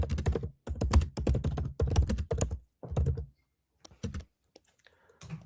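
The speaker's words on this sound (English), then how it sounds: "It is incredibly difficult to talk when you're typing that loud." Loud clacking on a computer keyboard, dense bursts of rapid keystrokes in several runs with short pauses, then trailing into sparse isolated taps, close and dry.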